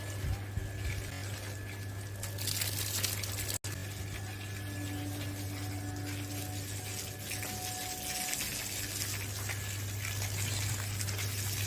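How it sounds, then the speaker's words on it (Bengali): Water poured over freshly set cement on a small house, a steady splashing and trickling flow that runs continuously for several seconds with no talk. "জল যত বেশি দেওয়া যাবে সিমেন্ট তত বেশি আর কি,"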